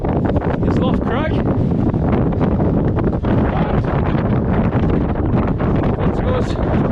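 Strong wind gusts buffet the microphone on Loft Crag, a Lake District fell in January, roaring steadily and loudly throughout with rustling over the top.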